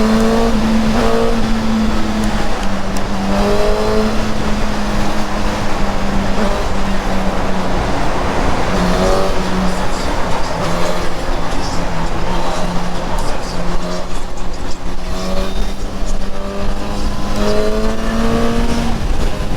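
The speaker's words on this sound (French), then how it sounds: "C'est un vrai monstre cette moto." A Suzuki GSX-S 1000 motorcycle engine drones loudly and steadily at high revs throughout, its pitch rising and dipping slightly with the throttle, with wind noise rushing over it and a voice briefly speaking in the mix.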